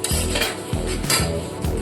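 A spatula stirs ginger-garlic masala frying in butter in a pan, with rhythmic scraping strokes repeating about every half second alongside a steady sizzle.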